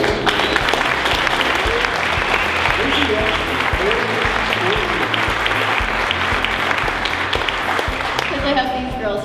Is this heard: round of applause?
yes